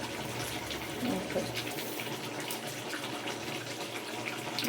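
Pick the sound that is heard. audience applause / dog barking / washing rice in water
washing rice in water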